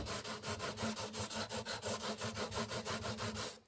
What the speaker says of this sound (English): now I'm just going to go lightly back and forth and get some of those sanding scratches out of the fret wire